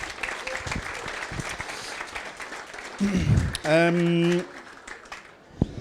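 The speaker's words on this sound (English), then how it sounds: "Big round of applause for Keegan." Applause from the audience at a workplace safety symposium, a steady wash of clapping throughout, briefly joined midway by a loud sustained tonal sound, with a voice speaking over it.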